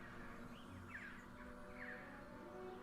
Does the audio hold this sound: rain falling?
no